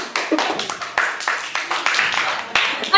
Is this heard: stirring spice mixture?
no